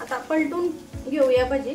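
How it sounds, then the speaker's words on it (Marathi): Spinach fritters (palak bhaji) fry in oil in a wok over medium heat, a soft crisp sizzle beneath someone talking. "बघू शकता कढईमध्येच असा कुरकुरीत असा आवाज येतोय मस्त."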